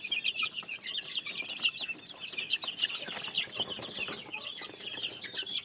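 Chicks in a box on a gamefowl farm, a constant busy peeping of many birds up close, with small scratchy taps and rustles as they peck at leftover feed.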